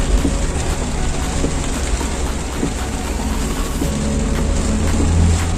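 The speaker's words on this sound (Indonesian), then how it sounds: "Kondisinya lagi hujan deras kawan." Heavy rain pours on a street in Makassar, a dense and constant roar of downpour with the low rumble of passing traffic underneath. No one speaks.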